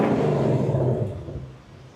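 Ford Mustang GT V8 revving in sports mode around 3,500 RPM, a loud, deep, steady engine roar that holds briefly and then falls away as the revs drop.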